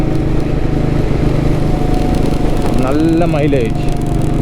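A Royal Enfield Vintage Bullet runs at about 78 km/h with a steady, loud engine drone and wind rumble throughout, while a rider talks over it.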